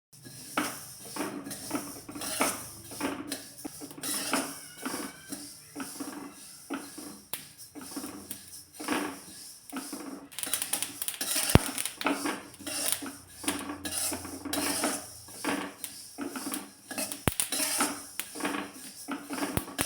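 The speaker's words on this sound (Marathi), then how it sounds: "शिवाय तिळाचा आवाजसुद्धा येतो तडतडात. तुम्हाला इथं आवाज येत असेल बघा." Sesame seeds roasting in a kadhai over a low gas flame crackle and pop in quick, uneven bursts, close and fairly loud, continuing steadily with no talking.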